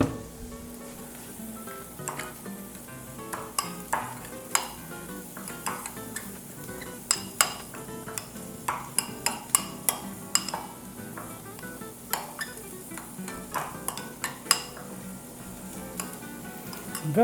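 A spoon stirring a paste of red wine vinegar in a hot pan, repeated sharp metallic taps and scrapes against the pan over a steady background sizzle, close and alone.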